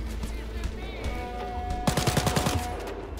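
Shotgun blasts in Wolfenstein: Youngblood ring out as a rapid burst of loud shots, coming after a stretch of game ambience and background voices.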